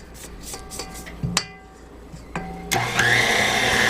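An electric hand mixer whirs through a thick no-bake Sweet Marie bar mixture in a bowl, with a steady motor drone broken by clunks and a sudden louder surge as the beaters catch, close up and without talk.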